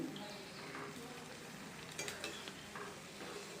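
Betel leaf bajji fry in hot oil, a faint steady sizzle and bubbling close by, with a few light clinks of a utensil against the pan.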